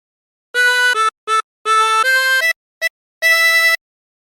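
A 20-hole tremolo harmonica plays a short phrase of the Wellerman tune, a run of clear sustained reedy notes broken into separate breaths with brief gaps, loud and close with no voices.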